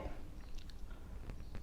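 Someone chews a crunchy lotus-seed cookie close to the mic, with soft, quiet crunching and mouth sounds and a few sharper crisp bites near the end.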